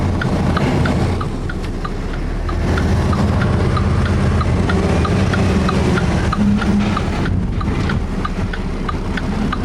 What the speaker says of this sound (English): now I got a garbage truck coming out